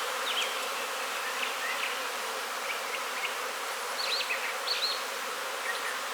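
Honeybee field force flying from a small split hive, a steady dense buzzing swarm with occasional nearer passes, constant and moderately loud.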